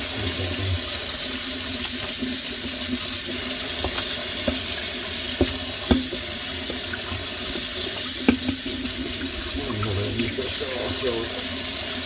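Tap water runs steadily into a kitchen sink as an old scrubber wipes and rinses it out, a continuous near splash with occasional knocks and scrapes while someone talks over it.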